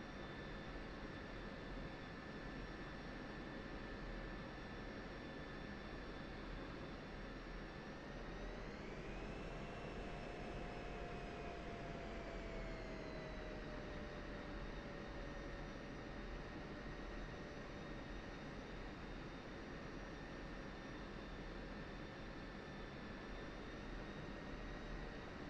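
F-16C Viper jet engine in the DCS flight simulator at night, a steady loud turbine whine and roar that rises in pitch midway then settles, continuous with no talking.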